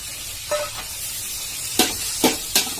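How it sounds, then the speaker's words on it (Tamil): Tomatoes and chillies sautéing in a pan, a soft continuous sizzle broken by several sharp scraping stirs of a spoon, close and fairly loud, with no talk. "எல்லாம் கொஞ்சம் நல்லா வதங்கி வரணும்."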